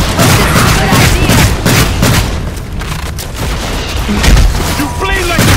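Hunters blast their weapons at a Behemoth monster in Evolve: loud, rapid volleys of gunfire and booming explosions pile up in a chaotic barrage, with voices shouting over the din.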